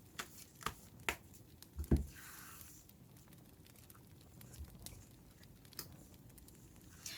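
Oracle cards for a tarot reading being shuffled and handled close by, with a few crisp slaps and flicks early on, then soft, quiet papery rustling. No one speaks.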